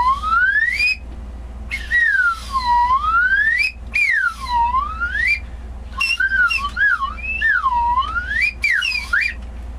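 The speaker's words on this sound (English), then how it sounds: "I hear a slide whistle." A slide whistle glides up and down in looping, warbling swoops, loud and close, with short pauses between phrases.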